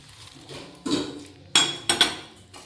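A metal spoon mixes fried pakoras into curry in a cooking pot, giving a handful of irregular clinks and scraping knocks, close and fairly sharp, with quiet pauses between strokes.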